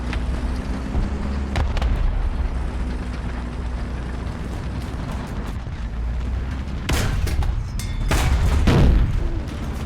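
Big booming blasts from 14.5mm machine gun rounds exploding in War Thunder, heard during an M6A1 heavy tank battle: a loud detonation rises near the end over a steady low engine rumble.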